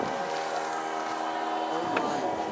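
Boat outboard motor running on a fishing trip, a steady droning engine with a harmonic whine heard under people talking nearby.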